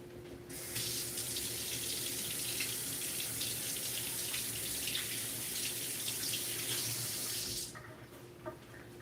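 Dates are rinsed under a running kitchen tap. A steady, close splash of water runs for about seven seconds, then cuts off, leaving a few small drips and clinks.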